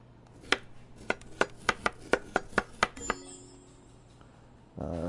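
Vegetables are sliced in the cooking game Chef Life, giving a quick run of about ten crisp, evenly spaced knife chops up close, followed by a brief chime and a short game sound at the end.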